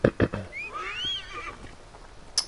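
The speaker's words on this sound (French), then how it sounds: "Viens là, mon petit cheval." A horse in Assassin's Creed Origins gives a clear whinny, a wavering high neigh lasting about a second, preceded by a couple of thumping hoofbeats and followed by a short bright clink.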